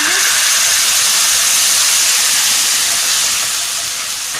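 Onion and tomato paste sizzling in a pan for a chicken lasagna sauce, a steady close hiss that fills the clip and eases slightly toward the end, with no talk.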